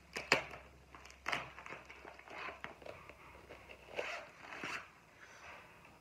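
Crinkly plastic and cardboard handling as a diamond painting canvas package is unwrapped, a sharp rustle opening the run followed by scattered soft tearing and crinkling bursts, close and quiet with no talking.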